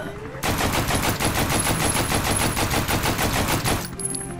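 Rapid automatic gunfire in The Walking Zombie: Dead City zombie shooter game, a steady loud burst of about three and a half seconds, then a brief mechanical reload sound as it stops.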